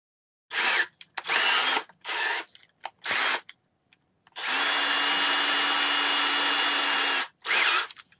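An electric drill with a 1/8 inch bit bores into aluminum backed by a scrap of wood, several short whirring bursts and then one sustained run of about three seconds, followed by a final brief burst.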